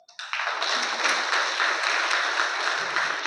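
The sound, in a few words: audience applause for students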